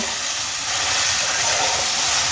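Mashed potatoes fry with spices in a pan for aloo kachuri filling, a steady loud hiss and sizzle that holds without a break throughout.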